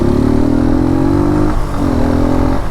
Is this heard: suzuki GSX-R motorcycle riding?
yes